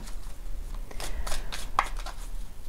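Soft riffling of tarot cards being shuffled in a few brief papery bursts, close by and quiet, with no talking.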